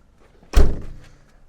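The rear door of a new 2024 Elddis Autoquest CV20 motorhome shuts with one loud, close, heavy thunk that decays quickly into quiet.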